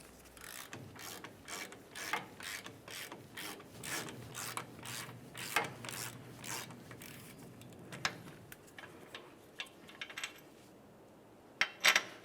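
A ratchet loosens the upper bolt during front lower ball joint work on a 1994-2002 Dodge Ram 2500, giving a steady run of quick, close clicking strokes. The clicks thin out toward the end, then a few sharper knocks follow, with no talk.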